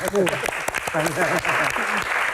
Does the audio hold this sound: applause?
yes